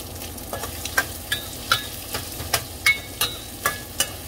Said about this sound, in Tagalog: Yan, ilunod na natin ang ating isda.